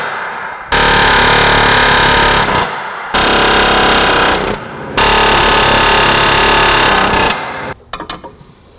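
A cutoff wheel grinds through metal on the front end of a GMT400 pickup truck, loud and harsh in three long continuous bursts separated by short pauses, ending with a few sharp clanks.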